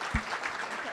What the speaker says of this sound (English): let's just clap for ourselves